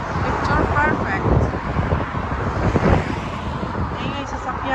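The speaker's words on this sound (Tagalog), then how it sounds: "Ingay sasakyan." Steady roadway noise from passing cars along a street lined with cherry blossom trees, a continuous loud wash of traffic rumble with wind buffeting the microphone and a person talking over it.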